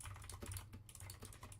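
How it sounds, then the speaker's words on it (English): Rapid clicking of keys on a computer keyboard, quiet and close, in an uneven stream of taps with no voices. "Sorry if you can hear me typing."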